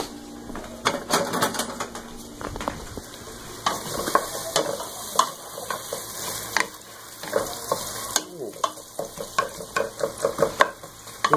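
Food for a chicken dish frying in a pan over medium heat, steady sizzling with repeated clicks and scrapes of a spoon stirring, close and alone.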